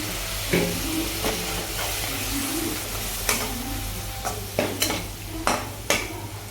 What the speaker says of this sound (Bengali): মশলাগুলোকে ভালো করে ফ্রাই করে নেব তার জন্য সামান্য জল দিয়ে দেবো যেন করে লেগে না যায়